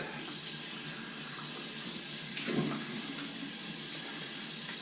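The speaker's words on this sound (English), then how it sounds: "I'll go ahead and get the face wet." A bathroom tap runs steadily as a face is wetted before a straight razor shave, a soft continuous rush of water with a brief splash midway, fairly quiet and alone.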